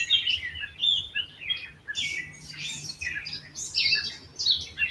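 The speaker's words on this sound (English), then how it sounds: "the Lord sent us a couple bluebirds today" A couple of bluebirds chirp in quick, bright, repeated bursts at a backyard bird bath, fairly close and continuous, with a faint low hum underneath and no talking.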